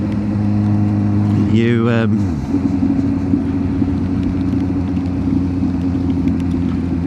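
A Suzuki GSX-S750 motorcycle engine rumbles loud and near, sweeping through a sharp rev before settling into a steady, deep idle, with a voice over it briefly.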